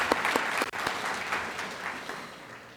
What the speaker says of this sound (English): Clap it up one more time for PHADA and EDEP and putting on this great occasion.